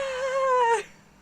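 A single close, drawn-out cat meow, tonal and slightly falling in pitch, lasting under a second before cutting off to quiet room noise.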